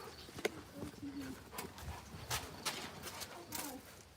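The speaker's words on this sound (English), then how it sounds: "There's a lot of birds." Birds chirp and coo around a horse stall amid faint clip-clop hoof thuds and rustling, soft and fairly close, with a little background voice.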